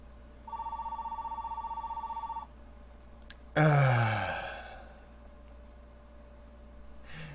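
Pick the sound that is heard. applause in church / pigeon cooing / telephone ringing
telephone ringing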